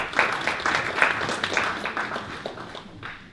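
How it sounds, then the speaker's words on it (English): An audience at a startup demo day event claps for a presenter, rapid overlapping clapping from a modest crowd that stays fairly even, then thins and fades slightly toward the end. "Big round of applause."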